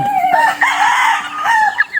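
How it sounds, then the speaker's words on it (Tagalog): A white Kelso rooster crowing loudly and close by, one long drawn-out call with a rising and falling pitch. "So tandang pala ito, ayan."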